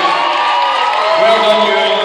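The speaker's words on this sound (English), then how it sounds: "big round of applause for Ewan Boyd" An audience at an evening presentation cheering and whooping for Ewan Boyd, a finalist receiving a certificate; a loud, close, sustained crowd roar with raised voices for about two seconds.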